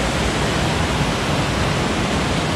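Two streams flow into a deep natural pool near Lonavla, making a loud, unbroken rush of falling water that stays even from start to finish.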